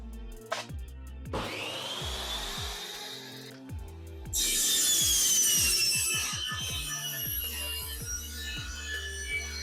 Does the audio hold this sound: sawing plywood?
yes